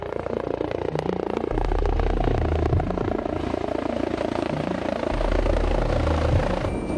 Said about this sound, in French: lors d'un exercice de formation au sauvetage avec l'hélicoptère Rega HUG